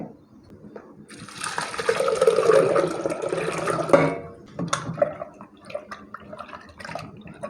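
Rinse water splashing as grains for idli are washed in a kitchen, a gushing pour for a few seconds followed by scattered drips, clinks and small splashes close by.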